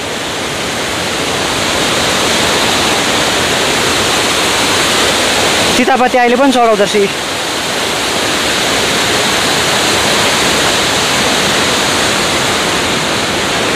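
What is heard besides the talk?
mountain stream flowing toward the Balason river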